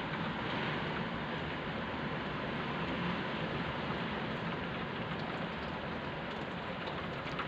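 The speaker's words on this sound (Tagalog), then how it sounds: "Ito kung makikita niyo lakas ng ulan sa labas at saka malakas ang hangin." Heavy typhoon rain pours outside with strong wind, a dense, loud, unbroken roar of water lasting throughout with no voices.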